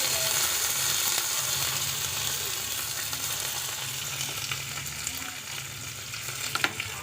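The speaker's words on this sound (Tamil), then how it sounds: "கடுகு வெடிச்சிருச்சு வரமிளகா போட்டுடலாம் கருவேப்பிலையும் போட்டுடலாம்" Mustard seeds crackle and sizzle steadily in hot oil while tempering for moor kuzhambu, a dense, even frying hiss with occasional sharper pops, no voices.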